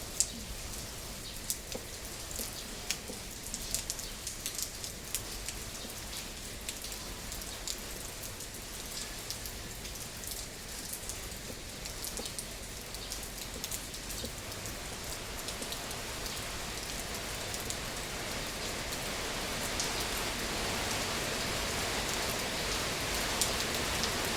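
Steady afternoon rain falls on surfaces, a dense continuous hiss with scattered drop taps that swells slightly toward the end, alone with no voices.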